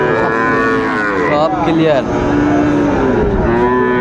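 Bull calves, Friesian and crossbreed, mooing at a cattle market in Dinajpur: several long, loud overlapping moos close by, over the constant hubbub of the market crowd.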